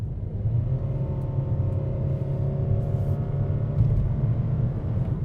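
A 2017 Honda HR-V with a CVT drones under hard acceleration inside the cabin, a steady low engine hum with a sustained tone that holds at one pitch throughout and no talk.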